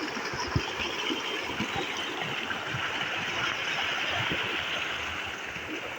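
Water pours steadily from a solar-powered pump motor on a farm, a continuous rushing flow with a faint engine-like hum underneath and no talking.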